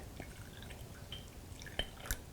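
Steeped spearmint tea being poured, with soft liquid trickles and a couple of sharper drips or clinks near the end, quiet and close with no talking.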